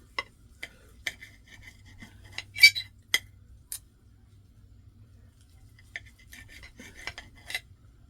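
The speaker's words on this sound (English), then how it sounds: "So I have to cut my cube steak up." Knife and fork cut cube steak on a plate in sparse close clinks and scrapes, a few sharper metal-on-ceramic taps clustered near the middle and end with quiet gaps between.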